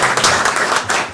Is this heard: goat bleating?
no